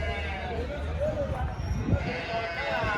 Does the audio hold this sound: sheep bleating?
yes